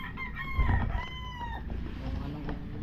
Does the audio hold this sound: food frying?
no